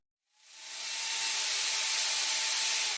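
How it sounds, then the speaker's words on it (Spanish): A Forstner bit on a power drill, set in its own guide, bores into wood with a steady high whirring hiss that rises quickly, holds for about two and a half seconds, then cuts off abruptly. "Con la broca Forstner ya instalada sobre su propia guía y unida al taladro"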